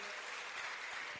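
A church congregation at ADEPR Remera gives a brief burst of applause, a faint, even patter of many hands heard from some distance.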